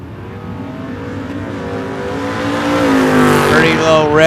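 A 1970 Chevy Nova 355 drag car roars loud and close on a solo bye run at a drag strip, engine revving and climbing steadily as it launches and pulls away, with crowd noise and announcer talk underneath.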